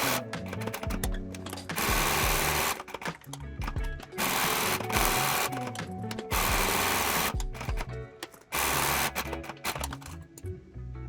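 A sewing machine stitches the gusset of a leather crossbody handbag in several long, loud runs, each separated by short pauses with soft handling clicks.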